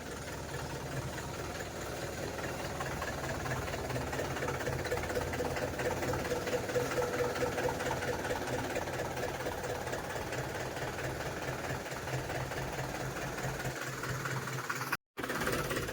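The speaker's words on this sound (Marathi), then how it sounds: "ट्रॅक्टर आलाय आता." A tractor engine runs steadily in a brick-strewn yard, a low, even rumble with a faint rhythmic knock lasting throughout, fairly quiet and unbroken apart from one brief cut near the end.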